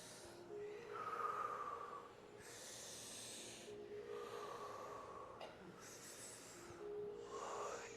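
A person takes slow, deep breaths while holding an arm-pull fascial stretch. About four long, hissing inhales and exhales are heard up close, fairly quiet and without talk.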